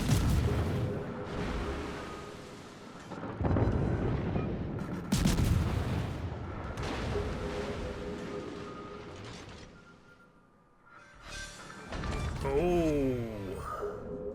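Naval gunfire from British destroyers in World of Warships, several heavy booming salvos spaced a few seconds apart with rumbling tails, under quiet spoken commentary and whistling shell sounds near the end.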